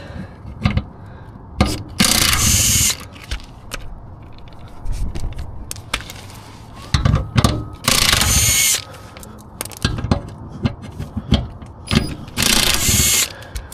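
Ratchet wrench loosening 16mm bolts on a Mercedes 4matic transfer case, in repeated loud bursts of rapid clicking separated by short pauses and tool handling.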